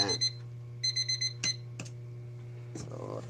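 Kitchen timer alarm sounding during a long-fermentation pandesal demo, with bursts of repeated beeps, a pause, then another burst, over a steady background hum with a few clicks and handling noises.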